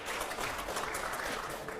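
Audience applause at a televised Hindi debate show, a dense, sustained clatter of clapping from a crowd, moderately loud, with no speech over it.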